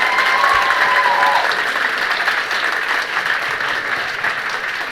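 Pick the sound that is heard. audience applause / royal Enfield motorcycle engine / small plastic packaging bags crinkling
audience applause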